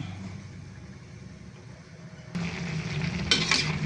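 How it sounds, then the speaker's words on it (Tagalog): Sautéed chayote being stirred in a pan: a quiet opening, then a sudden louder stretch of sizzling and scraping stirs near the end, close up with no talk. "Tapos haluin lang po natin siya."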